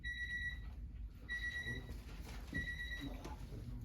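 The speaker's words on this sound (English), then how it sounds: "Beep, beep, beep." An electronic alarm beeps in short, evenly spaced high-pitched bursts, three groups over a few seconds, moderately loud against a low background hum, during a city council meeting.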